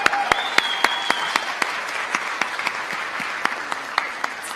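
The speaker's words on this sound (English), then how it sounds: "Another round of applause." An awards show audience at a homecoming ceremony applauds, a dense steady wash of clapping with sharp individual claps standing out, loud and sustained throughout with no speech.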